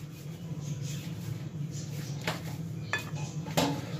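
Utensil scraping and clinking against a bowl as oil is stirred into pineapple cake batter, a steady low clatter with a few sharper taps near the end, no talking.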